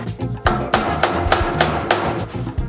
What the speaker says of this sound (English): With a little bit of heat, the chisel, these needle bearings will come out.